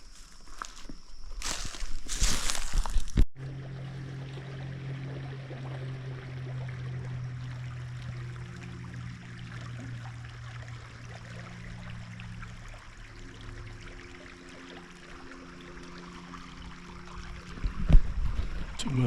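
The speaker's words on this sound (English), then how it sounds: "Can't hear the water for the guy running his boat or the airplane." Motorboat running on water nearby in a spring hunting area, a low steady engine drone lasting several seconds and then fading, with faint rustling and footsteps, a loud thump near the start and end.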